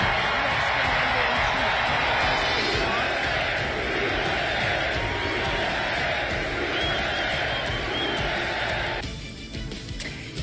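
A massive crowd at a Donald Trump rally roars and cheers continuously, loud and dense, with a sudden drop near the end as the noise thins out.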